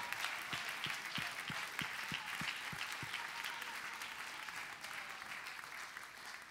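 A church congregation claps along in praise during a Sunday service, a warm wash of applause with rhythmic, evenly spaced beats standing out near the start before it settles into steady clapping.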